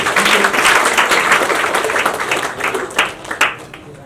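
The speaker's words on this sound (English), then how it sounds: "So, good round of applause for Manasvi." A lecture audience gives a steady round of applause for a presenter, close and fairly loud, thinning into a few scattered claps near the end.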